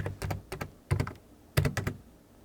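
Fingers tap on a computer keyboard while figures go into accounting software, giving short clustered bursts of close keystrokes with small gaps between groups and no speech.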